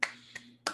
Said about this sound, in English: That's me trying to be a bear and clap for him.